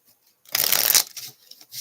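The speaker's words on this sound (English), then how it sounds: "One more shuffle." A quick riffle of tarot cards being shuffled, a burst of crisp fluttering papery clicks lasting about half a second, followed by softer card handling.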